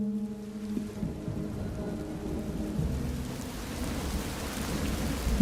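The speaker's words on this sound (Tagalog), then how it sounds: "inabot na kami ng malakas na ulan sa daan" Heavy rain pours steadily on a rural road, dense and continuous, with a deep rumble underneath and a low hum early on; no voices.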